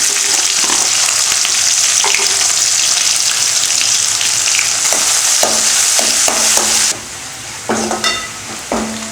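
Cumin and onion frying in hot oil for a soya chunk gravy, giving a loud, continuous sizzle with intermittent scraping stirs of a utensil in the pan.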